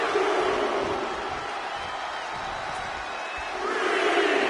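A WWE 2K25 arena crowd roars and cheers as one steady, dense wall of noise, swelling again near the end, with no commentary over it.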